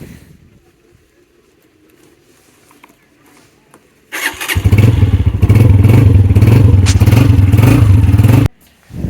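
A new 125cc motorcycle fires up on its self starter: quiet room noise, then a sudden loud engine catching and running steadily at close range for about four seconds before cutting off.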